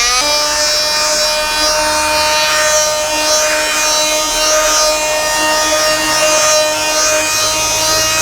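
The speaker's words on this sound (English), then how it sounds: "Take our multi-tool and basically we're just going to go over, and it's the vibration that's going to get rid of the vast majority of that sand" Multi-tool vibrating against a car floor mat to shake out sand, a steady close buzzing hum with constant high tonal whine throughout and no talk.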